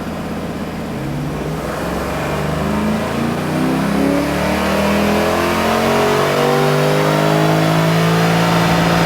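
A Lexus IS600 with an LS engine conversion revs hard on a dyno, steadily climbing in pitch at full throttle, loud and close, with the rising harmonic whine building over several seconds.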